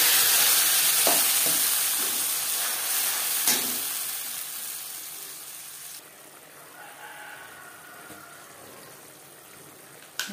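Spice paste hits hot refined oil in a pan, a loud broad sizzle that hisses steadily and slowly fades, with a few sharp stirring clicks along the way.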